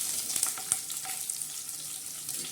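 Green chillies fry in a pan, a soft, fairly faint hiss of sizzling oil with a few light crackles and taps, brief and with no voices.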